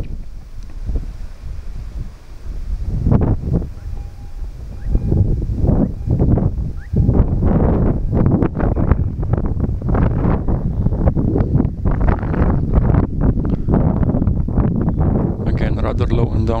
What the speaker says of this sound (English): So now the wind has shifted direction a bit